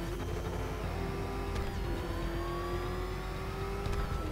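A car engine hums and revs steadily with a droning whine, a continuous mechanical drive with a few brief clicks.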